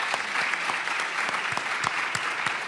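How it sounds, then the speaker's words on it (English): Audience at a law and disability conference applauds the panelists, a steady dense wash of clapping with a few sharper individual claps standing out, fairly loud and continuous. "If you can just welcome with a round of applause"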